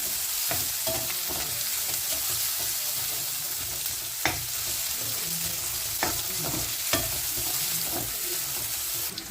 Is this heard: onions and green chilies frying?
yes